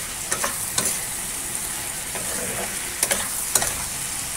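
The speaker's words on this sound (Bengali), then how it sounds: "এবার কষাবো, কষিয়ে কষিয়ে তারপরে জল।" Spiced curry with crushed whole garam masala, cardamom and cinnamon is stirred and fried in a pan, giving a steady close sizzle broken by spatula scrapes, with no talking.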